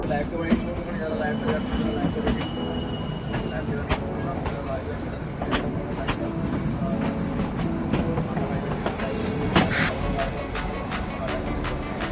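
Onboard the Kalka to Shimla toy train, a continuous rumble of wheels on the rails with rattling carriages and occasional squeaks, as a voice talks over the noise.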